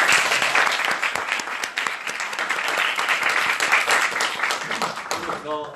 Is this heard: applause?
yes